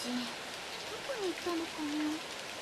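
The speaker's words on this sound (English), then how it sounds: "the pouring rain that's hammering the window" Pouring rain from a video game beats against a window as a steady hiss, with faint tonal game sounds gliding underneath at low level.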